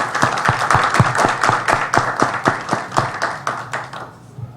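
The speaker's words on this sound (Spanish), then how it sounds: "para el cual pido un fuerte aplauso" Loud applause from a conference audience honoring an economics professor at a lecture on Dominican geopolitics, steady dense clapping for several seconds that thins and fades near the end.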